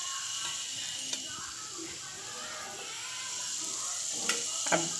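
A single eggless rose cookie fries in hot oil, giving a steady, soft, close sizzle with a few faint clicks of the metal mould and no talking.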